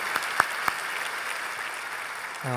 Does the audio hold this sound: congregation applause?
yes